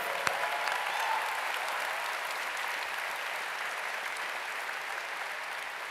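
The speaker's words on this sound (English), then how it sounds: "So a big round of applause for Cirque Bijou." Steady, full applause from a large crowd at a gaming convention closing ceremony, continuous clapping that holds at the same level throughout.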